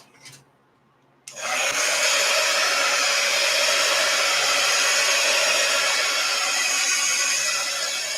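An electric dryer blows steadily and loudly to dry ink on a page in an art journal, a constant broadband rush that starts abruptly after a brief quiet moment and holds for the rest of the span.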